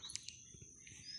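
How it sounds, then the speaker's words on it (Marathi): A few quick, faint sparrow chirps, brief and high, over a quiet background. "मस्त चिमण्यांचा चिवचिवाट"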